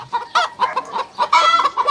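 A chicken clucks repeatedly in short, choppy bursts, fairly close and loud, with no talking.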